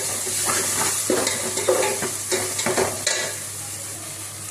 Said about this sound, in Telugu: అల్లం వెల్లుల్లి పేస్ట్ కొంచెంసేపు వేయించుకోవాలి.